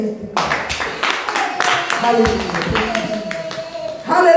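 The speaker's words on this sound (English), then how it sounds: "If you really mean it, clap your hands." Church congregation clapping their hands, a string of sharp separate claps that builds into a looser patter, with a voice calling out and singing over the top.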